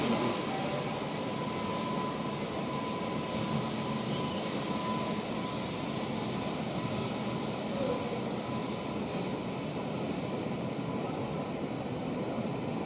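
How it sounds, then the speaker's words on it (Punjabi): A passenger train pulls out of Chandigarh railway station, heard as a continuous, even rumble and wash of broadband noise at a moderate distance, steady and unbroken with no voices. "ਹੁਣ ਟ੍ਰੇਨ ਰਵਾਨਾ ਹੋ ਚੁੱਕੀ ਹੈ।"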